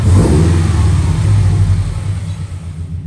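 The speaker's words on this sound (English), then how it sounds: "I could just rev it out just a bit" A car engine fitted with a homemade cold air intake revs loudly and close up, a deep rumbling roar that holds strong before easing off toward the end, with no talking over it.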